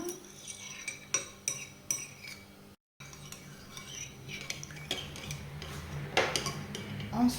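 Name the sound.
mixing yeast into warm water in a bowl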